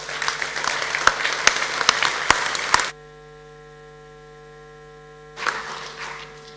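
An audience applauds at an ethics and leadership in sports summit as an ambassador is welcomed, dense clapping for about three seconds that stops abruptly into quiet mains hum, then a brief burst of clapping returns.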